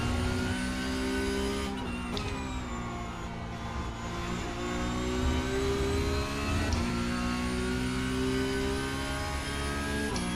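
A Porsche Cup race car engine at Monza in iRacing drones loudly and steadily throughout, with clear harmonic tones rising and dipping slightly through gear changes and brief shifts, heard alone without talk.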